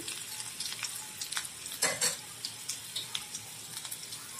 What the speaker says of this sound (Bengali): এগুলো আমি হাফ মিনিট ধরে মিডিয়াম আঁচে একটু ভেজে নিচ্ছি।